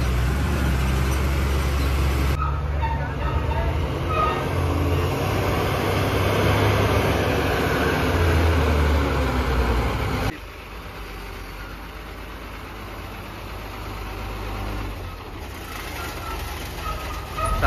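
A truck's engine runs in gear at a sugar factory, giving a steady, close diesel drone that drops noticeably quieter partway through and then carries on evenly.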